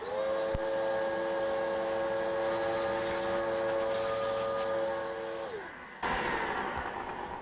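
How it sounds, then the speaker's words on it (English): A household vacuum cleaner sucks up drilling dust from a hole in a garage floor while a ground anchor is fitted, a loud steady whine with tonal harmonics that winds down near the end, then a brief rattle as it is moved. "so I'm going to use the hoover."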